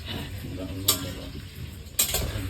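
Mutton curry cooking in a pan, a soft steady sizzle with stirring, broken by two sharp metallic clinks from a utensil against the pan.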